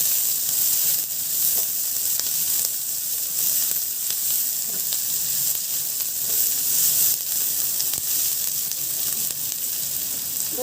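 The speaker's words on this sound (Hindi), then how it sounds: "प्याज को भून लेंगे।" Onions frying in a pan give a steady, close sizzle and hiss that lasts throughout, with faint stirring scrapes and no talk.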